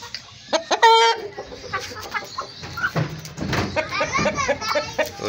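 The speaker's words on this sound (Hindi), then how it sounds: "ये वाली मोटी सी मुर्गी है, तगड़ी बहुत है" Chickens on a farm, including a plump, sturdy hen sitting on eggs, cluck and squawk in a busy series of close calls, with a loud burst near the start and steady clucking throughout.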